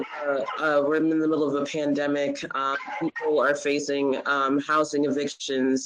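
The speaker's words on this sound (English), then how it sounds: "I'm not sure if you can hear my dog in the background." Background dog barking and yipping, mostly buried beneath continuous close-up speech from one person.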